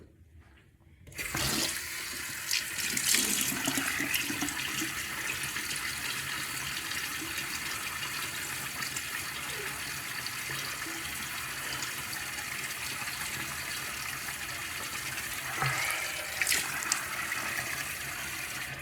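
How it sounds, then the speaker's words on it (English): A bathroom tap runs steadily while a face is wetted before a shave, a continuous splashing water stream that starts abruptly after a second of quiet and continues close and even throughout. "let me get my face wet."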